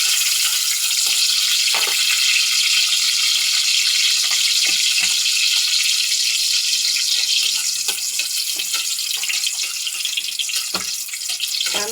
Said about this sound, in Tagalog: Gigisa tayo ng sibuyas at kamatis.